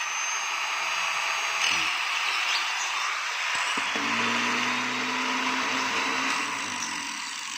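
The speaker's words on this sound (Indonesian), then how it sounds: "Mesin bor nyala dan gerinda nyala." Steady, loud whirring of an electric drill and an angle grinder droning together, powered by an 800-watt inverter, with a constant high-pitched motor whine.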